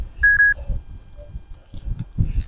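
Short electronic beeps come through a cyclist's helmet radio on a breezy recumbent ride, a steady tone followed by brief blips with gaps, over faint wind and soft murmured talk.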